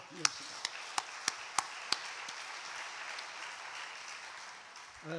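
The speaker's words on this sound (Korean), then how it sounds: "수고하신 우리 강사님 한 번 더 박수로서" An audience applauds a lecturer at a Korean church gathering: a few sharp, separate claps open into a steady, moderately loud wash of clapping that holds evenly for about five seconds.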